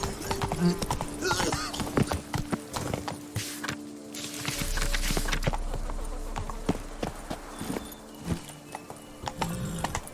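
Hooves of Roach, a horse in The Witcher 3 set in Toussaint, clip-clop rhythmically on hard ground, fairly close, with a neigh, a low steady rumble in the middle and scattered voices over the top.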